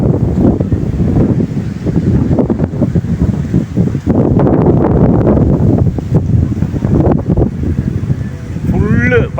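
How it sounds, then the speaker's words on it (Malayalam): Strong wind roars and buffets the microphone continuously, a heavy rushing noise with gusty swells throughout. "പൊളി കാറ്റാണ്"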